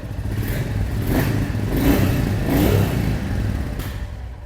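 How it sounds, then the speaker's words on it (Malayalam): Royal Enfield Goan Classic 350 motorcycle exhaust revved in repeated surges, a loud, close, steady engine rumble with throttle blips rising and falling, no talk. "ഞാൻ ജസ്റ്റ് എക്സോസ്റ്റ് നോട്ട് ഒന്ന് കേൾപ്പിച്ച് തരാം"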